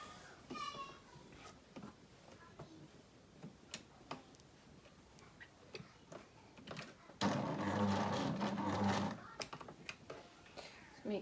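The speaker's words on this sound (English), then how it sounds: "So you're sewing right across to the edge of the neck trim, sleeve band, whatever you want to call it." A domestic sewing machine stitches across the edge of a garment's neck trim or sleeve band, a steady whirring burst of about two seconds standing out from quiet ticking and handling noises.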